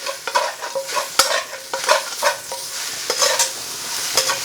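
Szechuan chilli garlic noodles with fresh spring onions being stir-fried in a hot pan, rhythmic scraping and tossing strokes over a continuous close sizzle, with no talking.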